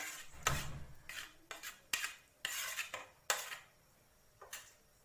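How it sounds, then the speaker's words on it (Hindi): A spoon stirs custard apple pulp into basundi in a metal pan, making several separate scraping strokes with metallic clinks, close and fairly quiet, with no talking. "तो इसको अच्छे से मिक्स करना है।"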